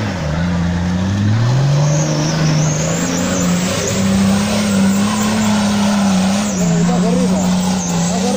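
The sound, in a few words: off-road car engine on hill climb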